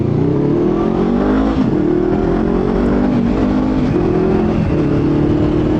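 A Honda CBR500R motorcycle engine revs hard and close, loud rising and falling pulls of engine pitch repeating through the stretch, with no talk over it.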